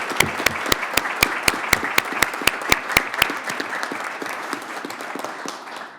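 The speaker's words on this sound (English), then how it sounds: "So let's give a round of applause to everyone from the Police Department." An audience at a township board of commissioners meeting applauds retiring police department staff. The applause is steady and fills the room, with sharp individual claps standing out early before it thins toward the end.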